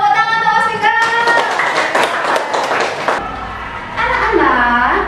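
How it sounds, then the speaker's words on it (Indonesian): A classroom of children claps for a student, with loud mixed clapping heard under overlapping young voices and chatter. "Tepuk tangan untuk Mas Viko."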